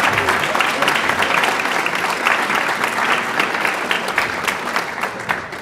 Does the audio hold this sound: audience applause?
yes